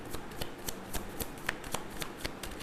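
Tarot cards being shuffled by hand, a run of quick, crisp riffling snaps repeating in an irregular rhythm, close and fairly soft, with no speech.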